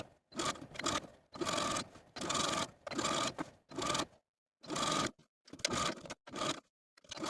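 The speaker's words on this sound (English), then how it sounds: "Stitching the seam allowance to the binding about 1/8 of an inch away from the original seam line all the way around" A sewing machine stitches a seam allowance to the binding of a silk dress in bursts of rapid mechanical whirring, about nine runs separated by short pauses, close and clear with no talking.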